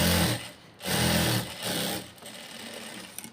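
A sewing machine stitches a blouse in three short runs, a close, buzzing mechanical whir that starts and stops with brief pauses between bursts.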